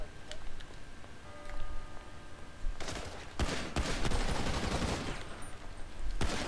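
Rapid gunfire from a shootout in GTA V Online, with bursts of shots crackling sharply from about three seconds on and growing dense and loud, preceded by quieter ticking game sounds.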